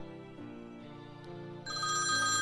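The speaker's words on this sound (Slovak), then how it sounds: "V tom mi začal zvoniť mobil." A mobile phone ringtone plays a short melodic electronic tune, rising to a brighter, louder phrase toward the end, heard alone and up close indoors in a small one-room flat.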